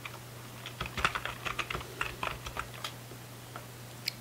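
Computer keyboard keys tapped while writing C++ code, an irregular run of crisp, close clicks in short bursts with pauses, over a steady low electrical hum, no talking.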